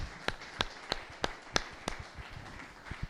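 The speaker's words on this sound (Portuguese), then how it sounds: "Salva de palmas ao Espírito Santo." Sharp, evenly spaced hand claps at a church service, about seven distinct claps in a steady rhythm, followed by quieter scattered clapping.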